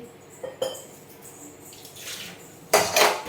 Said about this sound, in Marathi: तर आता आपण पाणी टाकणार आहे याच्यामध्ये तर पाणी टाकून घेते